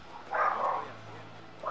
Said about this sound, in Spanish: Discúlpenme si están ladrando los perros